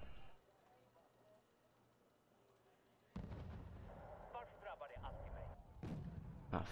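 Bombing in Wargame: Red Dragon: after a quiet stretch, a loud burst of explosions erupts and keeps rumbling, with crackling pops and a final heavy blast near the end.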